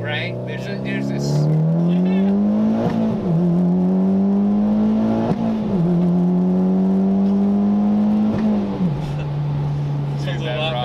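A Mitsubishi Lancer Evolution X making 412 all-wheel horsepower revs hard and climbs in pitch, dropping briefly at each of several gear shifts before pulling up again, loud and close.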